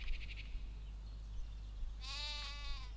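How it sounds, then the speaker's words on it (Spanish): A sheep bleats once, clear and wavering, in the Black & White video game, following a faint higher cry at the start over a quiet steady background hum. "La oveja está por aquí, porque cada vez que me acerco a la puerta suena."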